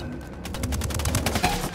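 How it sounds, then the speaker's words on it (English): Rapid automatic gunfire from rebels and cartel fighters in Ghost Recon Wildlands crackles in quick, close, repeated bursts. "Got some rebels training shots with the cartel"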